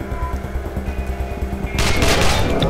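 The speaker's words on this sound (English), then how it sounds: "This AK is ridiculously powerful." AK rifle fire in the video game Wasteland 2 breaks out as a loud, dense burst of shots partway through, cutting in over a droning game music bed.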